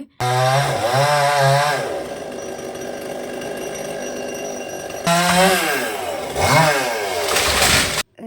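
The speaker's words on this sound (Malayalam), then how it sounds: "അപ്പോൾ അതിൻ്റെ തെങ്ങിൻ്റെ ഓലയും തേങ്ങയൊക്കെ ആദ്യം വെട്ടിയിട്ടു" A chainsaw cuts into a tall coconut tree by a village home: a loud, close engine note that revs and bogs under load, drops to a steadier idle in the middle, then surges again before stopping abruptly.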